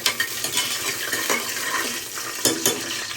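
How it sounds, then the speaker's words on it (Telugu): Whole spices crackle and sizzle in hot oil for a mutton pulav, with a steady frying hiss and a few sharp scraping stirs of a utensil against the pan. "సో నేను అందులో మసాలా దినుసులు వేసుకుంటున్నాను. ఒకసారి కలుపుతాను."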